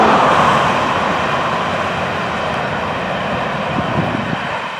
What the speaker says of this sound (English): Well, what a train they got.